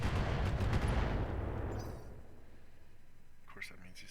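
A missile launch in the Battletech video game gives a heavy roaring blast with deep rumble that fades over about two seconds, followed by quieter background and a few short sharp clicks near the end.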